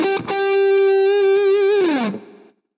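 A distorted electric guitar rings out a sustained, heavily effected note that bends downward, then is cut to dead silence by left- and right-hand muting, with short choppy attacks at the start.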